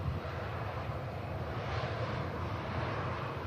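Ryanair airliner taking off at Manchester Airport, a steady broad roar of jet engines with low rumble and wind buffeting on the microphone, continuous and fairly distant.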